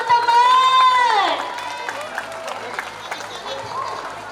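Applause and cheering from a school audience at a pageant in Palembang, a rough crowd wash rising behind an amplified host's voice that speaks over most of it.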